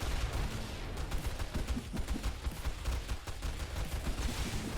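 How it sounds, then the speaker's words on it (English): Rapid bursts of robotic turret gunfire rattle continuously in a 7 Days to Die Overhaul zombie defence at a snow base, dense overlapping shots with no pauses, loud and close. "the NPCs and robotic turrets kill them before they can even make it there"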